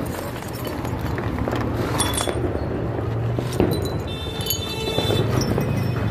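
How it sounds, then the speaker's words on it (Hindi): Glass bottles clink on a street at night with firecrackers going off, sharp bright taps scattered over a busy, noisy outdoor background. "कांच की बोतल।"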